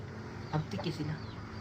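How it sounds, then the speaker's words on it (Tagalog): Several chickens cluck in short low bursts against a steady background hum, fairly faint and close by. "Grabe ang tiktik yung mga manok dito."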